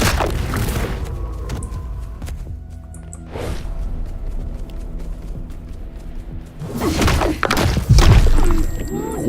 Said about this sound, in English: There is a Climinator shooting me from the distance.